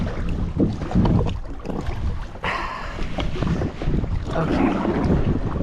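A kayak paddles across Pearl Harbor, with uneven splashes and water swishes from the paddle strokes mixed with gusty wind buffeting the microphone, fairly close and without talk.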